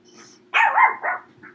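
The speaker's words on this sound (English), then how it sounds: "And my dog is barking." A dog barks indoors, a short burst of two or three loud, close barks after a faint lead-in, with no talking over it.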